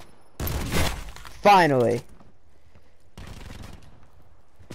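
A sniper rifle fires a single sharp, loud shot during a Call of Duty Black Ops 4 gun game match. Someone speaks briefly right after, then only faint game ambience remains.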